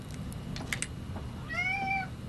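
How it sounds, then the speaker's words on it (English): A cat gives one short, clear meow near the end of the clip, and it rises above a quiet indoor room where a few light taps and handling noises are heard beforehand. "no kitty, no kitty"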